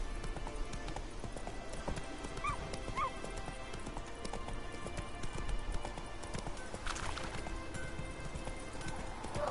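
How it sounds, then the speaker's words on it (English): A horse's hooves clip-clop steadily along in The Witcher video game, a brisk rhythmic trot mixed with faint game ambience and an occasional whinny, no talk over it. "Whoa there, Roach."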